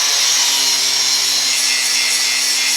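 An angle grinder with a flap disc grinds and polishes a large wrench being turned into a short sword, a loud, steady, harsh hissing whine that runs continuously and close with no pauses or talk.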